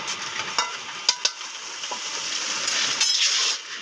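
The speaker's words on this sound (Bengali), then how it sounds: "তোমাদের দিদিভাই এখন মুড়ি ভাজছে" Rice dry-roasting in a pan to make puffed rice (muri), a bright steady hiss and crackle with a few sharp clinks from stirring, close and moderately loud.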